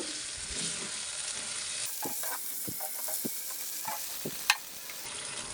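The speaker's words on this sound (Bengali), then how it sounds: "ছোলার ডালগুলি এবার একটু নেড়ে নিব" Boiled chana dal being stirred in a hot pan of oil, a continuous sizzle broken by soft scraping strokes of a spoon and one sharp clink, close by with no talking.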